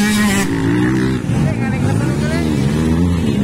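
Powerful motorcycles roar together at an open-mix category race event in Talahiron, Kibawe, a steady loud engine drone with shifting revs, crowd voices and talk layered over it.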